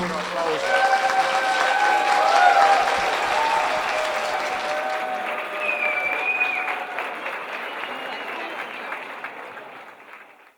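Sustained audience applause and cheering after a playback show performance of pop music through the ages, loud and dense at first, then gradually thinning and fading away over about ten seconds.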